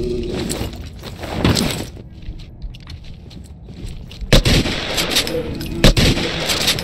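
Gunshots in the video game Wall of Insanity, several loud booming shots spaced apart amid dense noisy combat ambience, with a couple of sharp blasts standing out near the end.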